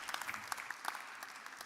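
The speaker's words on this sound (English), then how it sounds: "A round of applause for him as he leaves the stage." An audience at an international energy and climate forum in Vienna applauds as a speaker leaves the stage; the clapping is faint and distant, a steady patter with no voices over it.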